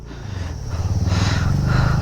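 A motorcycle is moved and parked on a bike trip in North Bengal, its idling engine chugging in a close, rapid, steady rhythm that grows slightly louder over a couple of seconds.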